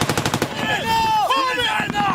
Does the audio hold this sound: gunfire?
yes